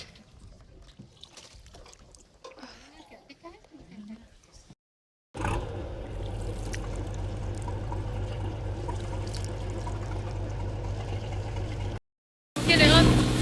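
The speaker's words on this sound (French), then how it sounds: "je vais prendre de l'eau et mouiller ma nuque" Water poured over the back of a person's neck outdoors on a tropical monkey island, a steady splashing pour lasting several seconds after some quieter movement, then a brief gap and a louder burst.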